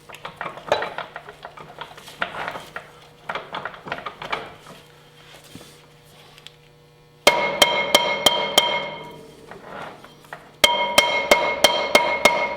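Sharp metallic clanks of a hammer striking the rear brake drum of a Grizzly 600 ATV in rapid bursts, loud and close, after a quieter stretch of scattered knocks and handling.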